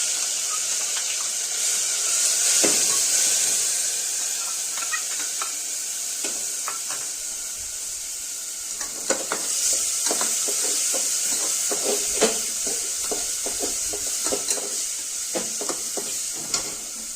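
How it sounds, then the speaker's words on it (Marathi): Leftover spice masala roasting in oil in a hot pot, steady sizzling with intermittent scraping and clinks as it is stirred, close and continuous with no talking. "उरलेला मसाला सगळा आता भाजून घेऊया."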